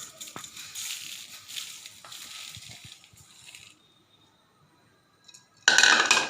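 Puffed rice snack tossed and stirred in a bowl: crisp rustling and crunchy scraping with a few spoon clinks, going quiet before a loud burst of rustling at the end.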